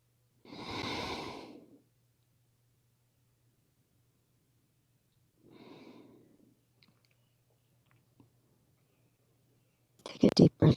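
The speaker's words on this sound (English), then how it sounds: "Take a deep breath in. And exhale." Deep yoga breathing in a quiet room: a long audible exhale, then a softer second breath a few seconds later, close and alone, with a couple of faint clicks and a brief burst of noise at the end.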